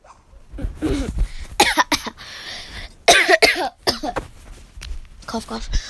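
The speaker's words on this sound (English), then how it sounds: "Cough, cough." Several harsh coughs and throat-clearing bursts, close and loud, mixed with voice sounds.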